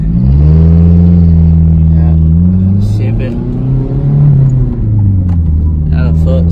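A Toyota MR2 engine revs hard and close as the car accelerates, its droning tone climbing in pitch, dropping briefly at a gear change, then climbing again.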